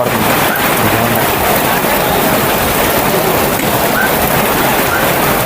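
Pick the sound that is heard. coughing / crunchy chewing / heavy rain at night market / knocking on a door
heavy rain at night market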